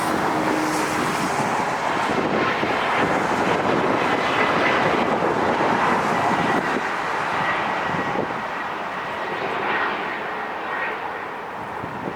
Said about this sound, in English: early takeoff. I'll take it.